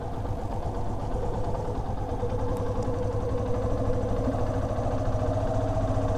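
Motorcycle pulling away in first gear, engine running as a steady, moderately loud low drone with a slight rise in revs as gas is given, no voices over it.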